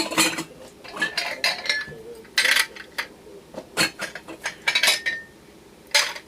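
Metal lug lids for canning jars clink and rattle against each other in a quick, irregular series of bright, close taps and scrapes, with no talking.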